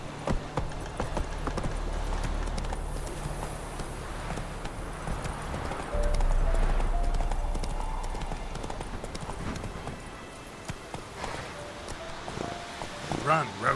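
Hooves of a horse galloping in The Witcher 3 make a fast, steady clip-clop rhythm that runs the whole time, mixed with game ambience and a voice at moments.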